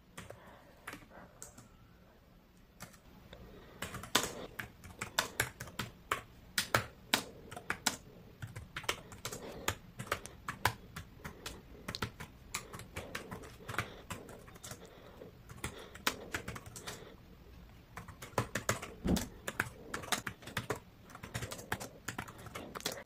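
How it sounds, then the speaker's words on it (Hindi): Someone types slowly and unevenly on a Samsung Galaxy Tab S9 FE+ keyboard accessory, making soft, quiet clicks with irregular pauses that grow busier partway through. "आप कीबोर्ड का साउंड भी सुन सकते हो"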